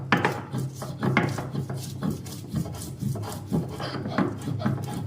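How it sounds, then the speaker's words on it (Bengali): Ginger ground into paste on a stone grinding slab, a steady rhythmic rasping and rubbing of stone on stone, close and moderately loud, repeating in quick strokes with no talk. "এখন আদাটা বেটে নিচ্ছে।"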